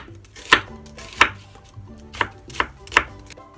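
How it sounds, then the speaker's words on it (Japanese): Five crisp, evenly spaced knife strokes cut an onion into wedges, close and clear with no voices. "ではまず玉ねぎをくし切りしていきます。"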